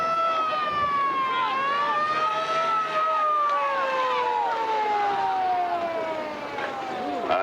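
Siren on an old fire engine arriving at a firemen's muster in Virginia City, Nevada, a loud near wail whose pitch rises and then slowly falls across the whole clip.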